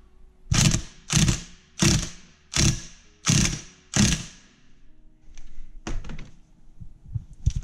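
Six sharp ratcheting bursts at a steady pace as a ratchet wrench tightens bolts on a 50cc race engine, close and loud, then fainter clicks and handling noises afterward.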